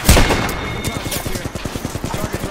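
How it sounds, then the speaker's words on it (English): Rapid automatic gunfire from a firefight in the battle-royale game Apex Legends, a dense, loud stream of sharp shots in a quick steady rhythm, with a heavier blast at the start. "Where are they shooting from?"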